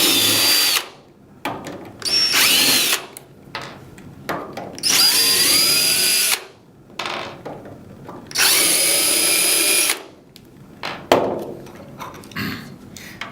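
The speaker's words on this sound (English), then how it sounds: "So we're just going to first remove the 4 thread rolling screws." A power driver backs four thread-rolling screws out of an LED grow light's metal end plate, in repeated loud whirring bursts of a second or two each, with short pauses between them.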